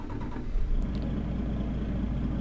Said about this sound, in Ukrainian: давай запускай двигун